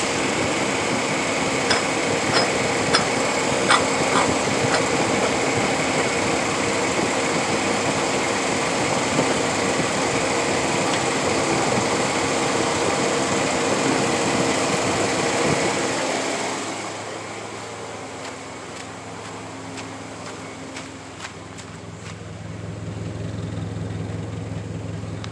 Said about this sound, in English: I didn't know if y'all could hear that pump or not over there